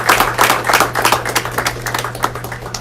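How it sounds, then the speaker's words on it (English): Applause from a graduation audience at a United States Air Force chaplain ceremony, a dense, steady patter of many hands clapping throughout, loud and close with a low hum underneath. "Let's have one more round of applause for the newest chaplain of the United States Air Force."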